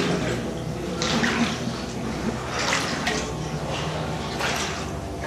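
Water in a flooded abandoned factory, splashing and sloshing in bursts as someone wades through it, over a steady wet background wash, no talk.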